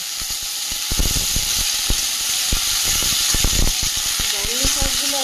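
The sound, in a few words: okra and brahmi greens sizzling as they're added to the pan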